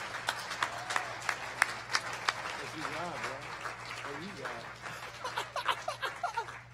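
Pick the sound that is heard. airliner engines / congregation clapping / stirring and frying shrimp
congregation clapping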